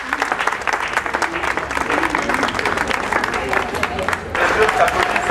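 An audience at a 2007 peace event claps in a sustained round of applause, dense and fairly loud, swelling slightly toward the end, with voices mixed in among the crowd.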